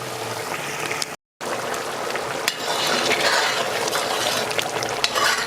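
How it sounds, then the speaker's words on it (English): Stewed chicken gizzards bubble in a Trinidadian-style pot: a dense, crackling simmer, heard close up, steady and continuous, with one brief dropout and no talking. "So you see it's bubbling nicely."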